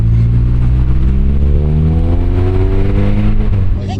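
A Honda Accord Type R with VTEC and a lightweight flywheel revs hard and close, its engine note climbing steadily in pitch for about four seconds before easing off.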